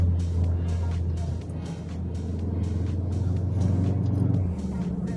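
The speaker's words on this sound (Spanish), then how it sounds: "Ahora voy en tercera, reduzco, se pone en segunda y luego se pone la M" Cupra Formentor VZ engine heard from inside the car as a steady low drone, shifting pitch near the end as the gearbox drops from third to second, with faint rhythmic ticking above it.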